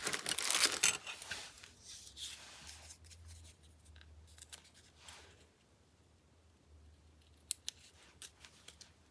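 Scissors snip through paper in a few quick cuts, followed by quieter rustling and occasional small clicks.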